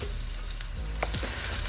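Strips of steak fry in hot oil for a Beijing beef stir fry, giving a steady, close sizzle with a few brief clinks and spatters near the end.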